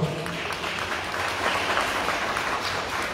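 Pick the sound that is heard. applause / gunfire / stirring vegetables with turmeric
applause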